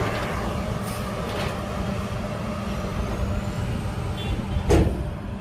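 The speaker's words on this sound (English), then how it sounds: "The contractor uses a 10-ton steel wheel roller to compact the base material." A 10-ton steel wheel roller compacts road base material during asphalt road construction, making a continuous heavy low rumble with a brief louder thump near the end.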